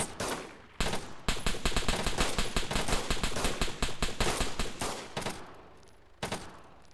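Sustained automatic gunfire from the military shooter game ARMA 3, dense rapid bursts rattling almost nonstop for several seconds with only brief gaps, loud and close, with no talking over it.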